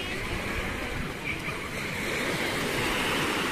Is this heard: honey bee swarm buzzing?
no